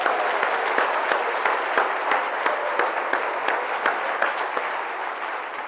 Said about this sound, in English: Now celebrate their value by giving them a round of applause, will you?